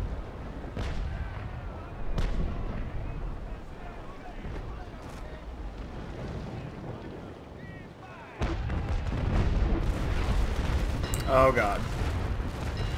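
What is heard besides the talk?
ship cannon broadsides in video game Naval Action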